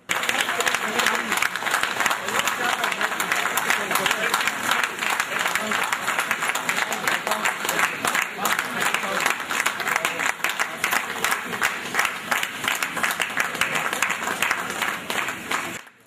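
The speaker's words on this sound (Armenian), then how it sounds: "Լուսաբացին մոտ արդեն Զվարթնոց օդանավակայանը ցնծում է լոռեցիների ծափողջյուններից" Loud, sustained applause from a large crowd at Zvartnots airport in Armenia welcoming arriving karate athletes, dense clapping continuing steadily throughout with cheering mixed in.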